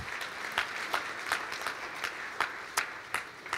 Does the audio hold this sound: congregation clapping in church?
yes